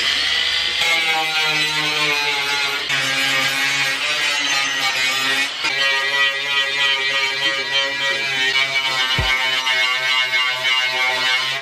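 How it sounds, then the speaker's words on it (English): A heavy flap disc on an angle grinder whines loudly and continuously as it grinds a car hood down to bare metal, a close, sustained tonal drone with slight pitch shifts under load. "I'm gonna use a heavy flap disc"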